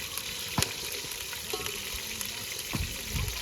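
Paneer pieces fry in a pan with a steady close sizzle, broken by a few sharp clinks and scrapes of turning, and no talk.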